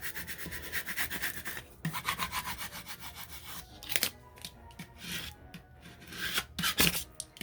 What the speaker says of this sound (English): I'm just going to scrape it with my scraper